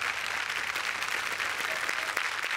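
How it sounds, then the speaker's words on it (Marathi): A theatre audience gives dense, steady applause for actor Mangesh Salvi on a Marathi comedy stage show, a continuous crackle of many hands clapping with no voices over it. "एकदा जोरदार टाळ्या मंगेश साळवीसाठी"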